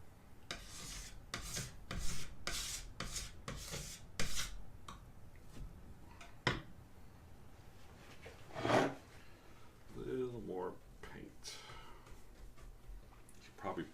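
A paint scraper rasps and rubs across an oil painting on canvas, with a quick series of sharp, regular strokes at first, then sparser scrapes and small brushing noises, fairly close and moderately quiet.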